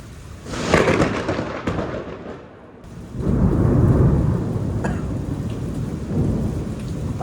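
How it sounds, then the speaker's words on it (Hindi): Thunder from a very close lightning strike cracks and rumbles loudly over steady rain, swelling to a heavy, deep roll that lingers near and strong. "भाई ये इतने पास बिजली गिरी ना कि जो आवाज़ और विजुअल्स का डिले आता है ना, डिले भी नहीं आया।"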